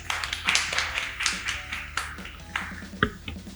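A studio audience at a Bengali television game show claps in scattered, uneven bursts of sharp taps over a few seconds, moderately loud, with no talking.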